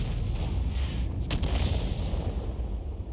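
A T92 HMC self-propelled gun fires an artillery round in a tank combat video game, a dense, rumbling boom with a sharp crack near the middle, sustained throughout and with no talk over it.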